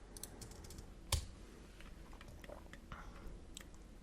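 Faint, sparse clicks of typing on a computer keyboard while entering text into a procedural tire generator in Blender, with a single sharper keystroke standing out against a quiet room.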